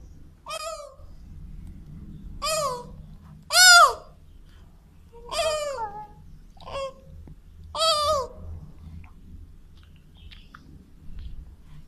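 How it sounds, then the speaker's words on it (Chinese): A baby giant panda cub gives a series of six high, squeaky bleating calls spaced a second or two apart, close and fairly clear over a low steady hum. "首先是小熊猫的叫声，"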